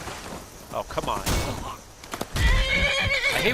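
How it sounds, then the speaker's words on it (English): Horses whinny and neigh loudly in a busy Skyrim scene, with hoof clops and scattered thumps, and a voice speaking briefly. "I hate when the horses get in the way."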